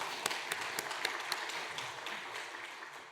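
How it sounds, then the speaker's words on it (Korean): A Sunday church congregation claps after a hymn, a faint, scattered round of hands with a few sharper individual claps standing out early before it thins slightly toward the end. "박수 쳐주십시오."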